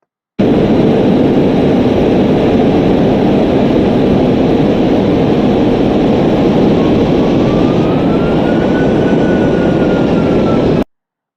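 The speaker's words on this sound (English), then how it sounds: "the aircraft engine sound" A loud, steady aircraft engine roar after the throttles are pushed forward, a continuous broadband drone with a faint rising whine in the later part, with no other sounds over it.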